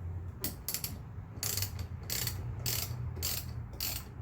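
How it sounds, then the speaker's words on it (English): A 10mm ratchet loosens the bolt on the negative terminal of an FJ Cruiser's car battery, giving several bursts of fast, close metallic clicking with short pauses between strokes. "I'm going to take a 10mm and remove the bolt on the negative terminal"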